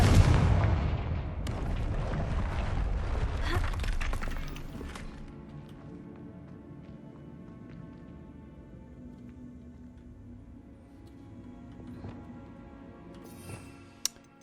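A Confringo blasting-spell explosion in the video game Hogwarts Legacy: a loud rumbling boom that fades over several seconds into a low ambient tail, with a small sharp pop near the end.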